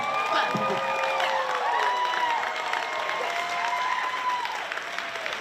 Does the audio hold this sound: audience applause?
yes